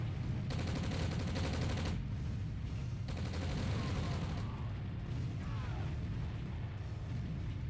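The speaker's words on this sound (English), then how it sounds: "But now the counter-artillery barrage is starting" Video game counter-artillery barrage, a dense, loud, continuous rumble of firing and booms with rapid bursts layered on top, sustained throughout the stretch.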